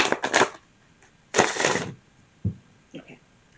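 Two brisk, papery bursts of cards being shuffled, close by, followed by a few softer taps and rustles, with a faint voice near the end.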